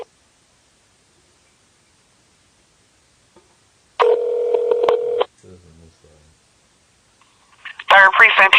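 Telephone keypad DTMF tones sound while a number is dialed, a single steady tone of about a second followed by faint ringing blips, then a voice begins speaking.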